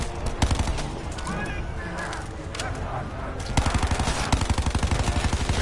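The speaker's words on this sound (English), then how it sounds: "I'd love to continue shooting." Rapid gunfire in the zombies video game Blood of the Dead: dense bursts of machine-gun shots, growing louder and more rhythmic toward the end, with voices talking over the action.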